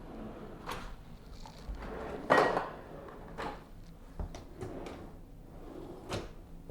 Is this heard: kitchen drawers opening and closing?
yes